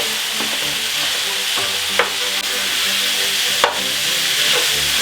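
Minced meat sizzles steadily in a pan as it is broken up and turned, a constant loud frying hiss with a few sharp scrapes and taps of the utensil against the pan.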